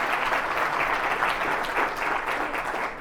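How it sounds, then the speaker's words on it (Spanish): An audience at a book presentation applauds steadily for a few seconds, a dense, even clatter of many hands in a hall. "Faltaba el aplauso,"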